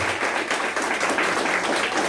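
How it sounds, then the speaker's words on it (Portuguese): A church congregation applauding during a worship service, a steady dense wash of clapping that fills the whole clip at moderate loudness without clear breaks. "Aplauda Jesus nesse momento."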